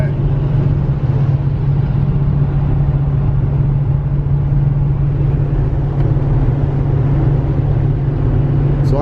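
Volkswagen Touareg TDI diesel engine labouring hard while towing 8,000 lbs up a long hill, a steady loud low drone with road and wind noise, continuous throughout and close inside the cabin.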